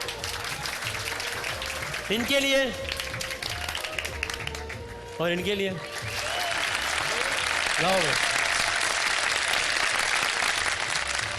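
A studio audience at a Ramadan sehri television show bursts into sustained, dense applause after brief bits of someone talking, the clapping swelling and holding loud to the end.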